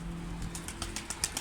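A stray smoke-grey capped pigeon with red eyes lands among other pigeons on a terrace, giving a few quick, faint wing flaps and soft fluttering bursts against a low steady background hum.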